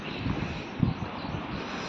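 Steady, blustery wind rumbles through a microphone outdoors by a river near Bhor village, with low gusty buffeting throughout and a brief stronger gust midway.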